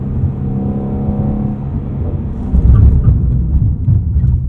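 A 2016 Ford Mustang Shelby GT350 cruises through town, its engine a loud, steady low rumble heard from inside the car, with a deeper surge of throttle about halfway through.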